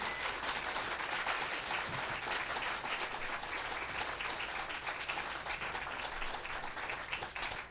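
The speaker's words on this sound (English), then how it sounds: "So let's give them a round of applause." An audience at a community band concert applauds continuously, a dense, even wash of clapping at steady volume from start to finish.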